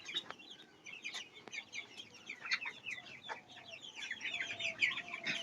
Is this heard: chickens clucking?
yes